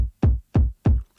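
Four deep kick drum thumps in a steady rhythm, each swelling back up after a ducked, pumping sidechain-compressed gap, with no other sounds.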